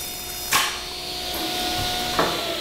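A rigid insulation panel kicks back off a table saw, giving two sharp, brief bangs about a second and a half apart over a steady background hum, with no talk.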